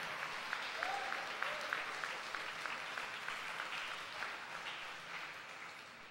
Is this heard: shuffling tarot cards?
no